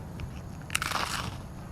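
A bite into a toasted marshmallow s'more gives a brief crisp crunch followed by a second of crackly chewing, heard close up against a steady backyard outdoor background hum.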